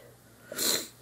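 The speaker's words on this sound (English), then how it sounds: "so you might hear me sniffle" A single short, breathy sniff close to the mic, a quick nasal intake of air in an otherwise quiet room.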